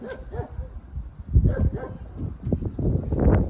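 Dogs bark outside near houses, heard from a passing car: a few short, rough barks near the start and again around the middle, over steady road and cabin noise.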